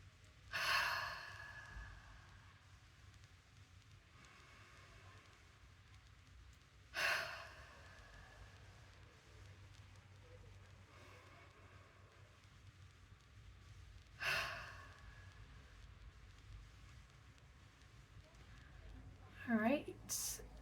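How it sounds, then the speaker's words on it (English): Three deep breaths taken slowly and spaced several seconds apart during a guided relaxation, each a soft close breathy rush, with a faint voice near the end. "Inhale through the nose and exhale through the mouth."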